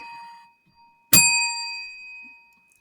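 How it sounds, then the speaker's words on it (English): One bright metallic bell strike rings out clearly, its tone sustaining and slowly decaying over more than a second after a faint preceding chime. "Just let my bells speak for me."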